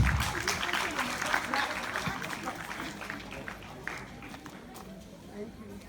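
Parents at a secondary school graduation applauding and cheering, a quiet, somewhat distant patter of clapping with crowd noise that gradually fades over several seconds.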